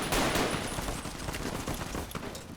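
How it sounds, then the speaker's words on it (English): Gunfire in a Vietnam War mod for Fallout: New Vegas: dense, continuous volleys of shots crackle steadily through the whole stretch with no pauses, loud and close-sounding, without any talking. "I was getting shot at from somewhere,"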